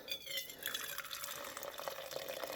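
Coffee pours steadily into a cup, a continuous splashing trickle with a rising pitch as it fills, close by and fairly quiet.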